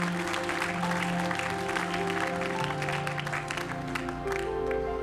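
A church congregation applauds God during a worship service, a dense, continuous wash of clapping hands carrying on under sustained musical tones from start to finish.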